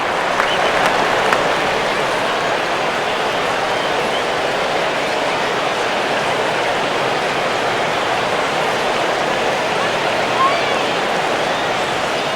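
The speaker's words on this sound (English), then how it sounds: "the crowd will boo here" Steady crowd noise from a baseball stadium in MLB 10: The Show, Marlins at Cubs, a dense continuous roar of booing that runs throughout at even loudness.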